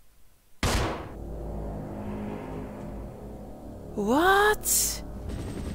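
A single sharp, loud gunshot rings out in the Resident Evil During the Storm demo, followed by a rumbling game ambience, a rising mechanical whine and another short blast, with a brief spoken word.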